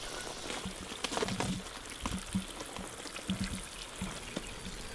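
Bath water poured out of a container onto a garden at an off-grid container home, a steady splashing, trickling pour with small irregular spatters, moderately loud and continuous with no talk.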